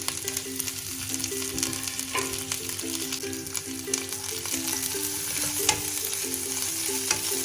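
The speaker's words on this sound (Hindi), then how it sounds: "जैसे ही घी गर्म होगा तो हम इसमें सारे ड्राई फ्रूट्स डाल देंगे।" Dry fruits fry gently in hot ghee for Eid sheer khurma, a steady soft sizzle with spoon-stirring clinks and scrapes throughout, close and continuous.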